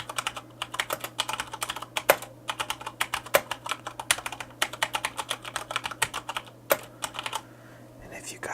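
Typing on a Corsair K70 RGB MK2 mechanical keyboard fitted with Cherry MX Brown switches, a close, rapid run of crisp clacking keystrokes in uneven bursts with brief pauses, over a low steady hum.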